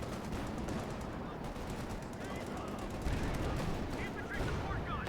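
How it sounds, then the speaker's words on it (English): Cluster bombs burst in Company of Heroes 2, a dense, continuous rumble of overlapping explosions and gunfire-like crackle that runs steadily throughout, with a commentator talking over it. "Cluster bombs again here by Ruby against Acehiro"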